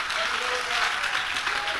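A church congregation applauds in a dense, steady wash of clapping that stays even throughout a short stretch, with a voice speaking faintly beneath it.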